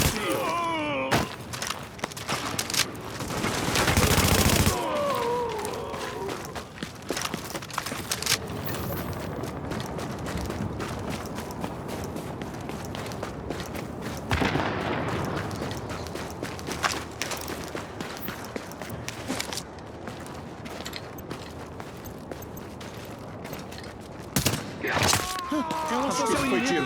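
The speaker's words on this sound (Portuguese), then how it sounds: "Acho que esse foi tiro." Gunfire from the video game Tom Clancy's The Division sounds in repeated sharp bursts and a dense volley, mixed with footsteps and thuds, while a voice speaks briefly.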